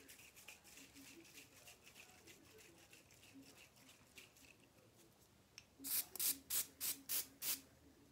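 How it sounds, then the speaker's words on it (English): A hair waxing spray is sprayed from a can. About six short, crisp hissing bursts come in quick succession close to the mic, after a quieter stretch with faint background noise and talking. "it's a waxing spray. It adds volume to your hair. Allow me to spray some for you now."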